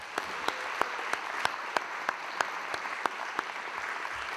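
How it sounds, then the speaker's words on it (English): Applause at an awards ceremony at the United Nations, a moderate, even patter of many hands with a few sharper claps standing out at a steady pace, heard from some distance in a large hall. "We can give another round of applause, right?"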